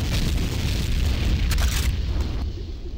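An enemy generator explodes in Tribes 2 during a capture-the-flag match on the Hillside map. It is one loud, sustained rumbling blast with a crackling burst in the middle.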